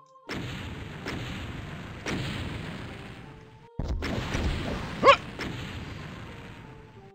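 Rocket launcher explosions in a Doom rocket duel: several heavy booming blasts spaced a second or so apart, loud and close, with game sound effects between them and no talk.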